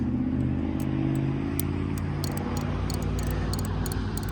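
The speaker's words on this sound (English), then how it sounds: "sorry about the sound of the traffic." Road traffic passes outside an apartment as a loud, continuous low rumble of engines and tyres, with faint clicks and rattles on top.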